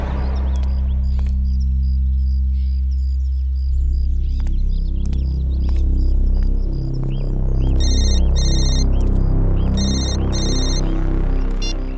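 A ringtone-style phone ring in a tense television crime drama scene, a repeating electronic tone pattern rising in bursts over a low musical hum and background score, with no talking.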